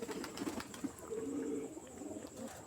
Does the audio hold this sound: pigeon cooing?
yes